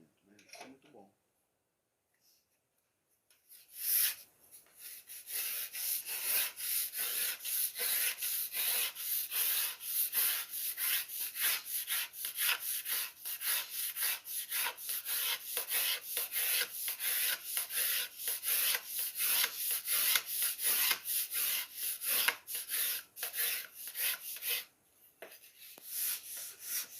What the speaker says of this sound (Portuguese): com pouca coisa você vai sofrer para lixar ele